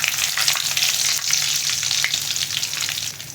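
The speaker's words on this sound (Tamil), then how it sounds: "கொஞ்சமாக கடுகு, கொஞ்சம் வெந்தயம், அது ரெண்டும் சேர்ந்து நல்லா பொரியட்டும்." Mustard seeds and fenugreek fry in sesame oil for kara kuzhambu, a close, loud, dense crackle and hiss with popping seeds throughout and no voices.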